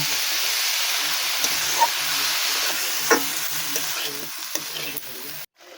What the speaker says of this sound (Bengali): সেই মোচাটা এর ওপর দিয়ে দেবো দিয়ে ভালো করে নেড়ে আবার কষিয়ে নেব